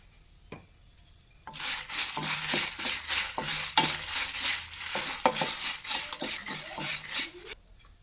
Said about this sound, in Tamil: நல்ல சிம்மில் வச்சு வறுத்துக்கோங்க